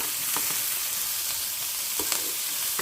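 Onions sautéing in a pan for soul food black-eyed peas with ham and rice make a close, continuous frying sizzle. Light scrapes and taps of stirring break through now and then.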